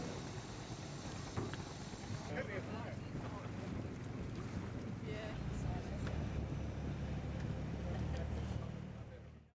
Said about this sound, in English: the tender was waiting to take us back to the AmaLotus.